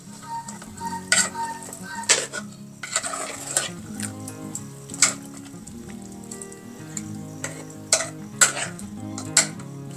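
Food sizzles and bubbles in a pan, with a utensil scraping and clinking against the metal at intervals; close and continuous, no voices.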